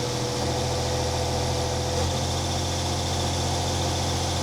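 An inboard boat engine, sunk and abandoned for ten years, runs steadily at around 1,000 revs, a continuous droning hum with low vibration and no pause or change in pitch.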